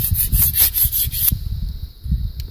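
A single-bevel Bishop broadhead is drawn back and forth across a blue DMT diamond sharpening stone, giving close, steady rhythmic rasping strokes that soften into lighter scraping partway through.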